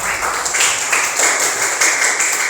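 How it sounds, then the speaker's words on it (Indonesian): A classroom of students claps for the third group after its presentation, with dense, steady applause filling the whole stretch at close range. "Oke, tepuk tangan buat kelompok 3"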